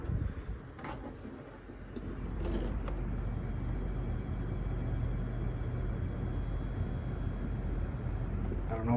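A Lakewood Kool Operator fan on low speed gives off a steady, droning motor whir with a rough, noisy hum. It runs continuously for several seconds with a few faint ticks near the start.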